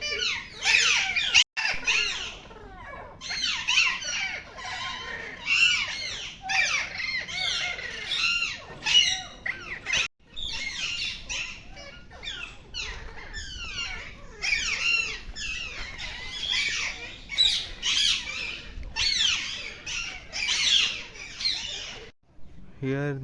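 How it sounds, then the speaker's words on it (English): A flock of Alexandrine parakeets in a zoo aviary squawks and screeches repeatedly in dense, overlapping bursts, loud and close, with a voice speaking intermittently underneath. "Their name is Alexandrine parakeet, and in Gujarati it is known as Pahadi popat. See, they are making a lot of noise."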